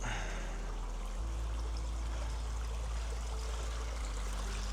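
A stream flows steadily nearby beside a footpath in farmland, giving a continuous broadband rush of running water with a low rumble, alone and without talk.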